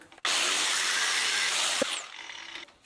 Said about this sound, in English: I guess I will have to resort to my angle grinder